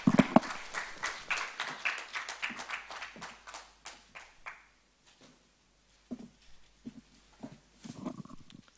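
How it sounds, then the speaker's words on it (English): Conference audience clapping for the council president and chairman, a dense round of applause that builds then thins into scattered claps, dies away briefly, and returns as a smaller burst near the end. "Please, another round of applause for our President, Chairman of Council, Bisi Adeyemi."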